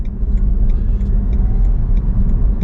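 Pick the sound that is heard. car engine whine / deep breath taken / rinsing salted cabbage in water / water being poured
car engine whine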